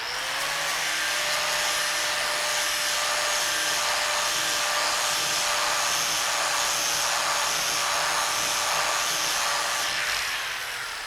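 A hand-held angle grinder fitted with a flap disc scours a metal welding table, producing a loud, continuous high whine that holds steady for the whole stretch with no speech.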